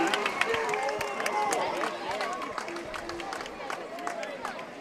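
Home fans at a Lions high school football game (Marion vs. Carterville) roar steadily from the stands in the fourth quarter, a dense, continuous crowd noise with scattered whistles and shouts, with no talk on top.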